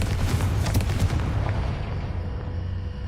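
A Confringo blasting spell goes off in Hogwarts Legacy, a loud booming burst with a crackling blast tail that rumbles and fades over a few seconds, with no talking.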